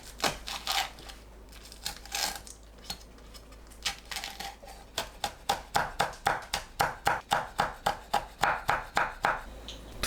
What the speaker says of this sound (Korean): 홍고추를 작게 썰어주세요.